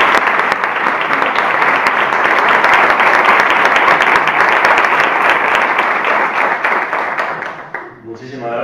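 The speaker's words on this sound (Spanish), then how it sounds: "un aplauso" Loud, sustained applause from an audience at a conference in Jerez, steady dense clapping for about seven seconds before it thins out and fades near the end.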